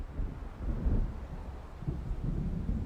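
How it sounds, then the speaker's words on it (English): Low, rolling rumble of thunder from an approaching storm near the sea in Alan Wake, a deep continuous growl that swells twice over a windy background, heard alone with no voices. "It seems there's a storm coming."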